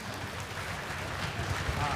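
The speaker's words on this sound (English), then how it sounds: "How about a round of applause?" Audience applause at a fifth-grade school demonstration concert, just after the clarinet section plays. The steady, soft patter of many hands continues evenly for about two seconds and swells slightly toward the end.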